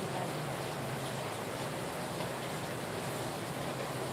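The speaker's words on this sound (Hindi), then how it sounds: "बहुत बारिश हो रही है अभी।" Steady, dense hiss of heavy rainfall, constant and moderately faint, with no voices.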